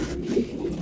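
Pigeons cooing in a loft with straw, a low soft throaty coo close by over a steady murmuring background, brief and continuous.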